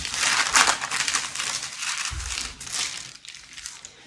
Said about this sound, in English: I'm gonna go ahead and unwrap this for you.